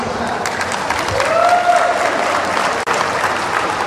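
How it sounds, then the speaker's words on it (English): Audience applause for a scholarship recipient at a college batch event, a short burst of crowd clapping, fairly loud and close, with a brief cut near the end. "Let's give her a hand, please."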